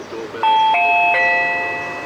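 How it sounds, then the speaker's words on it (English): A Reolink Battery Doorbell chime rings out indoors, a loud, clear multi-tone ding sequence of three stepped notes that ring on and slowly fade. "we'll press the doorbell"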